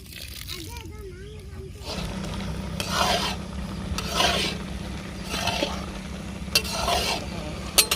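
Carrots simmering in milk for carrot halwa are stirred in a pan. The scraping strokes repeat in a slow rhythm over a low bubbling hum, after a short stretch of talking at the start.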